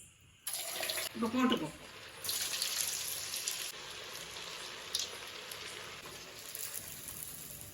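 Potato and carrot bondas dropped into hot oil over a low flame, giving a sudden bubbling hiss that swells, eases, and rises again in bursts before settling into a steady fizzing.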